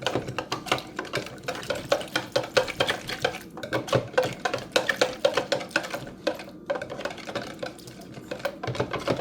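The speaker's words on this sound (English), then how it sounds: "Then I'm just going to mix the gelatin into my water." Gelatin gets mixed into half a cup of cold water with a utensil, producing rapid, irregular clinks and scrapes against the container that continue throughout at close range.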